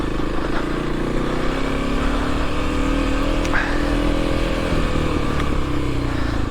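A dual-sport motorcycle ridden gently through mud on a trail, its engine holding a steady, moderately loud drone at low throttle, with faint clatters and splashes throughout.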